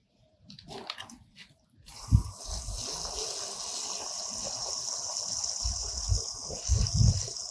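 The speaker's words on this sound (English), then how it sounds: "This part is a bit dry, so I'm adding more water." Water poured from a container onto dry soil in a potted yam planting, starting after a few soft handling noises and then a steady close gush and trickle with occasional splashy bursts.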